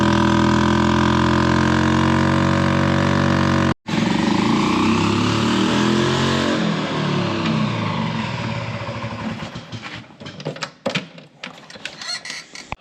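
Engine of an old Harley-Davidson golf cart laboring in cold weather: loud, close, rough idling that briefly cuts out, then surges and sputters unevenly before fading into irregular popping.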